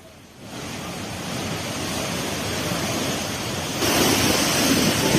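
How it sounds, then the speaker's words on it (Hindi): A swollen mountain stream, the flooded Lambagad nala in Uttarakhand, roars past in fast torrents, a dense continuous rushing that starts quiet, jumps up within half a second and grows louder again near the end, with no voices. "किस तरीके से पानी का बहाव काफी तेज है"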